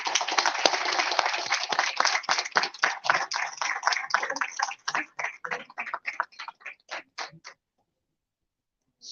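Conference attendees applaud a research scholar, starting with dense clapping that thins into scattered individual claps and then fades to silence.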